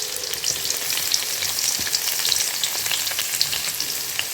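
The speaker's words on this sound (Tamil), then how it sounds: "இப்போ இதில் நான் வெட்டி வச்சுருக்கேன் வெங்காயத்தை சேர்த்துக்க போகிறேன்" Chopped onions frying in hot oil with cinnamon for beef kabsa, a dense, even, loud sizzle with constant crackle and faint stirring, no talking.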